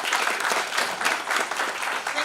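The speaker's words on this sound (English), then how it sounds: "A round of applause for our panel," An audience at a renewable energy conference applauds its panel, giving a dense, steady patter of many hands clapping at moderate distance for the whole short stretch.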